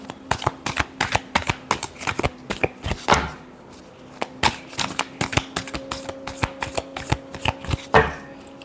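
Tarot cards being shuffled, a rapid run of crisp riffling bursts and slaps in irregular rhythm, close and fairly loud, with a steady faint hum underneath.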